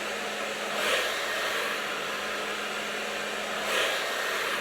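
A hair dryer running steadily while blow-drying long hair, a constant close whooshing roar that swells slightly twice as the airflow is moved around, with no talking.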